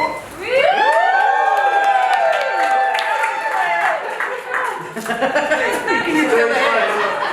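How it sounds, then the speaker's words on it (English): An audience at a comedic task-show contest cheers for a favourite contestant, loud whooping and shouting voices rising together and holding, then breaking into scattered shouts and laughter. "please cheer for your favourite contestant"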